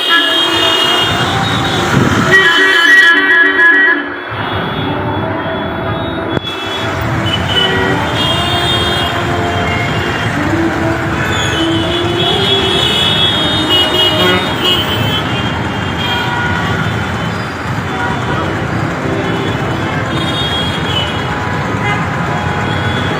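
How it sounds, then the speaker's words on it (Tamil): Traffic jam on a road held up by a party victory procession, with vehicle horns honking repeatedly over a constant loud rumble of idling and crawling cars, trucks and buses. "இவ்வளோ டிராஃபிக் ஜாம் பாருங்கள்"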